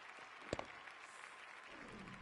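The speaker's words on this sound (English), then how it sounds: "they'll receive a warm reception from the crowd" Crowd applause in a PS4 cricket game after a batsman's dismissal, a soft, steady wash of clapping with one brief sharper burst near the start, heard alone without commentary.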